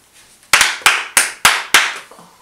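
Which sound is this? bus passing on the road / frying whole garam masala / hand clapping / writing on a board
hand clapping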